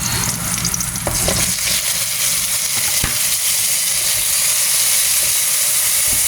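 Onions stirred in a hot pan, a loud continuous sizzle with scraping and clinking stirring strokes, close up and without talking.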